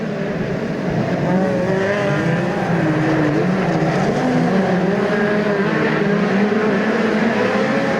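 Midget race cars in a New Zealand Midget Car Championship heat at Ruapuna Speedway, a steady loud roar of several engines droning and shifting pitch as the pack circles the track, with no voices.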